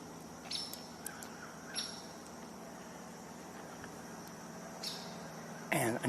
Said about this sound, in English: this woodpecker, either a hairy or a downy, is constantly calling for whatever reason.